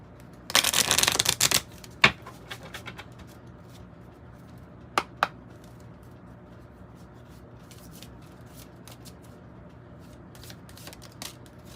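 Tarot cards from a Circle of Life deck being riffle-shuffled up close in one quick crisp burst, followed by a few sharp taps and snaps of cards over a quiet background, with no talking.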